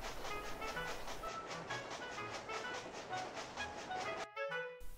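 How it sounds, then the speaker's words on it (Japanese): Rhythmic clickety-clack of a D51 steam locomotive hauling 30 coal wagons in the A-Train 9 railway game, loud and steady with repeating wheel beats, cutting briefly to a quieter, different rail sound near the end. "竹富の石炭を運ぶ30連デゴ1です。"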